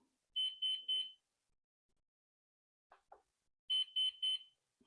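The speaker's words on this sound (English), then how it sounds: "It's beeping again, but now it's making a different sound." A Flywing Bell 206 V3 radio-controlled helicopter beeps in a triple burst of high, clear electronic tones, followed by two soft clicks. After a pause, a second triple burst of beeps sounds, loud and close in a quiet room.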